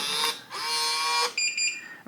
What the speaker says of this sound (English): you're going to hear a long beep and see a green flash here, meaning the code has been added